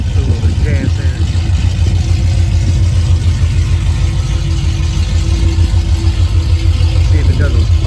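An Oldsmobile Cutlass G-body car engine runs, a loud close low rumble that holds steady throughout, with a person talking over it.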